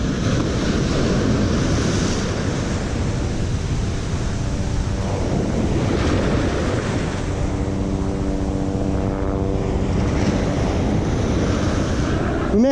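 Ocean surf and waves roll in continuously at a beach where a boat is being launched, loud and close with heavy wind rumble and no talk.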